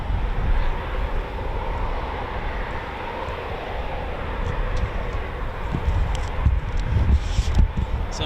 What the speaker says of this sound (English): Typhoon's already running.